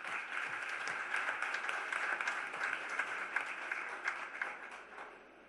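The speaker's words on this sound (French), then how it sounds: "Merci d'applaudir pour remercier le président de notre parti." A political party audience of young supporters in Dapaong claps in a full, continuous round of applause that swells slightly midway and then fades out toward the end.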